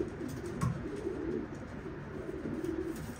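Racing pigeon, a dark check cock with white flights, cooing softly in a loft, with low murmuring coos and a brief louder call amid steady background bird noise.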